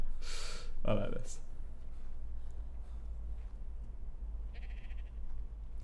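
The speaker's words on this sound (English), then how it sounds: "These are my sheep." Sheep in the video game ARK bleat once, a short loud call near the start over a steady low rumble of game ambience, followed by quieter background sounds.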